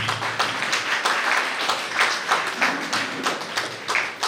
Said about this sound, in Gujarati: એકવાર જોરદાર તાળી મિત્રો